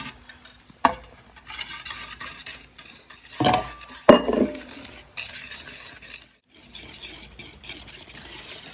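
Flour being stirred into jaggery in a bowl for making pude, with scraping and clinking of a utensil, a few sharper knocks and a soft pattering swirl throughout.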